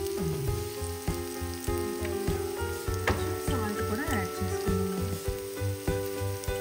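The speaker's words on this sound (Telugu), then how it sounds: "కొంచెం కరేపాకు కూడా యాడ్ చేసుకున్నాండి ఆనియన్ ఇంకొంచెం వేగాలండి" Onions and curry leaves frying in a pan for a fish curry sizzle steadily up close, with crackling pops and occasional scraping stirs, while someone speaks over the cooking.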